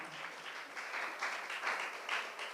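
A church congregation clapping hands together in sustained, fairly even applause, moderately distant, with no voices over it.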